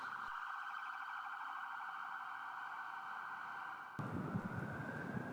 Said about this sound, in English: motorist, please do pull over to the right when an ambulance approaches.